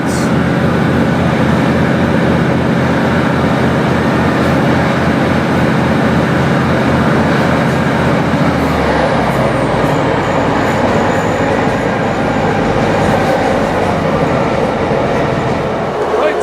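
A passenger train rumbles steadily across a viaduct on the line toward Blaenau Ffestiniog, loud and continuous with wheel clatter and a brief squeal, a voice speaking over it.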